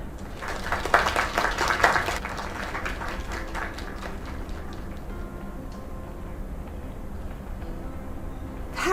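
Applause from a small crowd in the video game Lake, dense and lively for the first couple of seconds, then thinning into scattered, slower claps over a low background hum.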